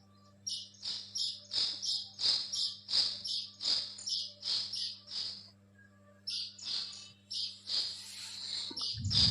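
Sparrows chirp outdoors in a quick, regular run of bright, close calls, one every half-second or so, with a short pause before a denser burst of chirping and a low thump at the very end.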